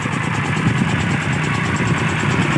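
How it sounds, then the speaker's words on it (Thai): A water pump engine runs in a rice field, a steady close chugging idle with a rough, even vibration that continues throughout without pause. "มือนี้สิพามาเบิง สูบน้ำครับ ไม่ภารกิจมาสูบน้ำครับ"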